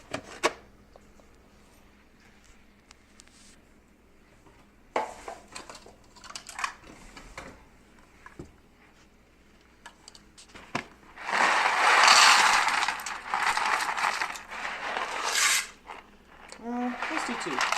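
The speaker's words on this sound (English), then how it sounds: "we're going to add about a cup of pasta" Dry mini pasta poured into a pot of chicken noodle soup: a loud, sustained rattling hiss of small pieces tumbling in for a few seconds, after softer clinks and handling sounds, with a voice speaking at intervals.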